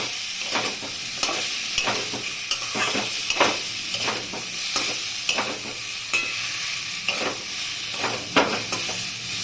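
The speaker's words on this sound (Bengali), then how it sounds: "দিয়ে এখন সুন্দর করে একটু নাড়াচাড়া। পোস্তটা লেগে যাচ্ছে এখন কড়াইতে।" Poppy seed paste and potatoes being stirred in a wok, a spatula scraping in a loose repeated rhythm over a continuous close sizzle of frying.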